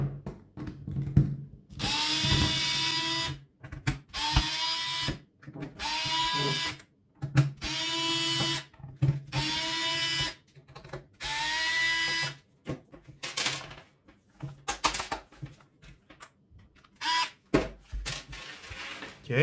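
Small safety screws are driven out of a Parkside PET 25 C3 electric nailer stapler with a cordless screwdriver, giving a series of short whirring bursts of rising and falling pitch, separated by brief silences, close up.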